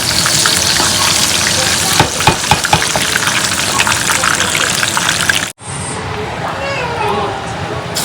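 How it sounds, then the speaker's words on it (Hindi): Cumin seeds and dried red chilies fry in a kadhi tadka, a loud, close, dense sizzle with crackles and stirring, cutting off abruptly to quieter background sound with a faint voice. "यहाँ पे ना रेडी कर रहे हैं जी कड़ी का तड़का"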